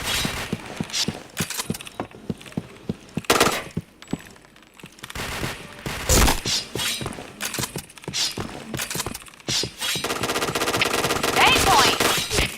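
Rapid gunfire bursts and single shots in the PointBlank shooter game, loud and close, with sharp cracks and glassy impacts spread across the whole stretch and a denser burst of firing near the end.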